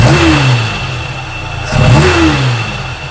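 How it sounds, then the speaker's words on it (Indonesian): A 1981 Peugeot 504 with a carburetor revs hard twice, its engine rising and falling between rough idle, loud and close with no talk. "Nih yang spesial, suara karbunya."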